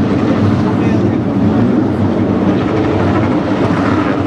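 Speedcars roar together as a race heat gets underway at Avalon, a dense, loud, continuous engine drone with a commentator talking over it.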